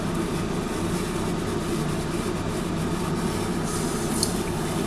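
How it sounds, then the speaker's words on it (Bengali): Eggplant fritters (beguni) deep-fry in oil over low gas, a continuous soft bubbling hiss held at an even moderate level with no voices. "আমি আরও 2 পিস ভেজে নিচ্ছি।"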